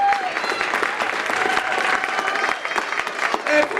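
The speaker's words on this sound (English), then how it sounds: "I think we need to give her some kind of applause." A seated audience claps at a drum-salute tribute event, giving dense, sustained applause that stays fairly loud throughout, with scattered voices in the crowd.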